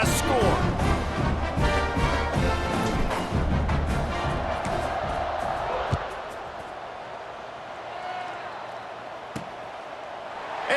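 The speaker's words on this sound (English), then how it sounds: "this crowd is buzzing after that last score" Stadium crowd roar in a college football video game, a dense steady buzz of cheering fans that swells at first, then eases to a lower murmur with a few sharp thuds and bangs mixed in.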